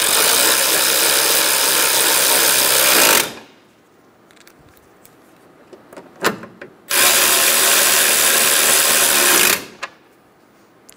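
A powered ratchet or impact-style tool drives 10 millimeter bolts into the intake of a 2011-2014 Hyundai Sonata during a radiator cooling fan replacement. Two loud, steady whirring bursts of about three seconds each are separated by quieter clicks and handling noises.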